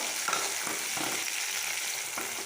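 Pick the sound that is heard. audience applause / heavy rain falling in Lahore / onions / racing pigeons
onions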